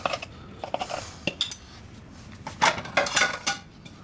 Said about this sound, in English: I'm gonna cut it.